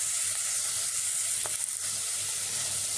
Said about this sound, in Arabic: انا هفضل اقلب كده لغايه ما احس ان البسله بدأت تدخل معايا في السوا